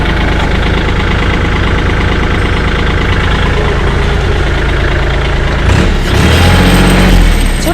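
A Kubota L3218SP tractor from 2021 fitted with a rotary tiller runs with its PTO spinning, a loud steady engine rumble and mechanical whirr that shifts to a heavier, churning tone near the end.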